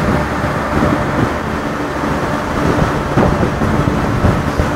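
Rain falls during a storm in Manaus, a loud broad wash of noise with low rumbling and occasional gusty bursts, heard close and continuous without talk.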